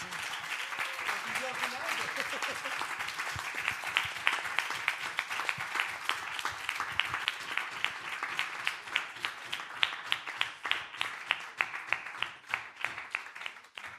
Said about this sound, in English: a big applause to our wonderful panelists